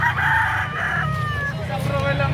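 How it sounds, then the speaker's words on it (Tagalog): A young stag rooster crows at a busy Batangas chicken market, a bright drawn-out call over steady background crowd chatter and other birds. "Hawak ni ate isang stag pa lang"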